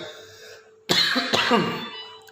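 Two or three sharp coughs break a quiet moment, close and fairly loud, with a throaty rasp trailing after.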